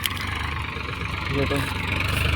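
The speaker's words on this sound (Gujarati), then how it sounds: "ટ્રેક્ટર આવી ગયું છે કટવા માટે" A tractor engine idles with a steady, low, rumbling drone close by, running a Jambu thresher for mustard harvesting, and a voice speaks briefly over it.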